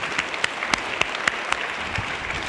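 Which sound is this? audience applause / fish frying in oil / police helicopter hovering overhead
audience applause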